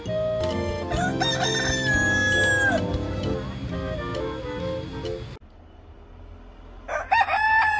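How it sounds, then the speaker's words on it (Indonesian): A rooster crows loudly and close by, with long rising calls over clucking and other farmyard noise, then a sudden cut to quiet before another nearby crow starts. "ini binatang ayam, teman-teman"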